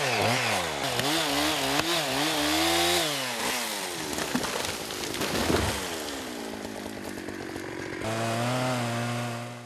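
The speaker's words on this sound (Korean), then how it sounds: "톱질이 계속 반복된다." A logger's chainsaw cuts a thick tree in a Siberian forest, the engine loud and close, revving and bogging in repeated pitch swoops as the chain bites into the wood, then settling to a steadier whine.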